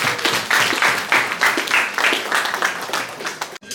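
Applause at a family gathering, a short burst of rhythmic hand clapping from a small group, close and lively, fading out after about three and a half seconds.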